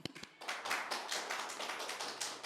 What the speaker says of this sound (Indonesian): Beri tepuk tangan untuk semuanya.